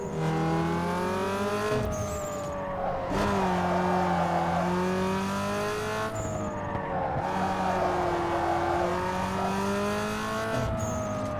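In Need for Speed Underground 2, a car engine roars loudly and continuously, climbing in pitch through the gears, with brief dips at each shift and tire squeals mixed in.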